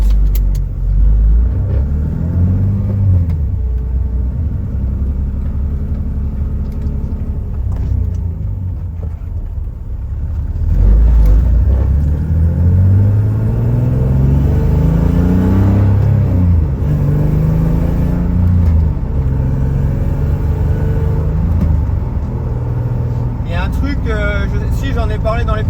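A 1987 BMW E30 with a 3.0-litre M54B30 engine and a heavy flywheel drives off on a test run, a low engine rumble rising and falling through gear changes under steady interior noise.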